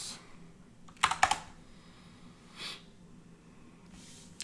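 Short bursts of keystrokes on a computer keyboard while a developer installs a styling package for a React app, a quick cluster of clicks followed by a couple of isolated taps, close and fairly quiet.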